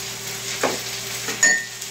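Minced ginger hitting a pan of onions and bell pepper, a steady close sizzle of frying with a couple of louder bursts and stirring scrapes, no voices.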